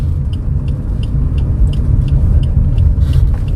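Steady, loud engine drone and road rumble from an older Suzuki Ertiga GL car accelerating in second gear, with faint intermittent clicks over the continuous noise.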